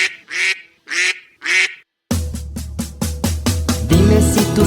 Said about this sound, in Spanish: Dime si tú sabes cómo hace el pato.